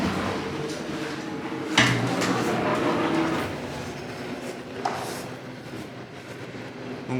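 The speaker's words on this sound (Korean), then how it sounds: "여기가 이제 기차 스테이션입니다. 비아 레일." Inside a small VIA Rail train station in Canada, a steady indoor hum and murmur fills the room, broken by a couple of sharp door-like clunks.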